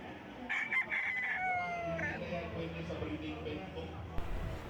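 A fighting rooster crows in the distance over a busy background of chatter and ambient noise at a fiesta, its call rising and trailing off.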